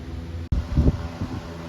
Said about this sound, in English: Sorry for the fan, but it stinks.